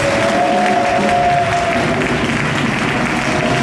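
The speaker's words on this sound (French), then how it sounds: "je veux bénir Dieu pour sa vie par ces acclamations au nom de Jésus-Christ" A church congregation during a service bursts into loud, sustained applause and acclamations, with a sung or shouted voice ringing over the dense clapping.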